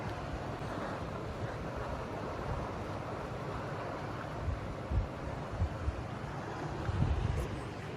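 Class A river water flowing out of Lake Sunapee along the Sunapee Ragged Kearsarge trail, a steady broadband rush close by with wind buffeting the microphone and a few low thumps.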